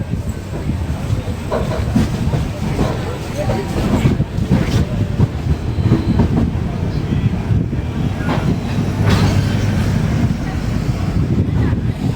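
The Pothigai Superfast Express from Sengottai to Chennai rolls along with a steady, loud onboard rumble and rattling wheel clatter, punctuated by occasional sharper knocks throughout.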